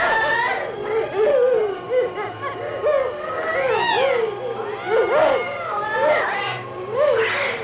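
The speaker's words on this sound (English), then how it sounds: "the strange woman is attacked and mutilated by her own pet cats" Pet cats attack a woman in the 1990 horror film Demonia, loud rising and falling yowls and snarling meows piling over one another in close, frantic bursts.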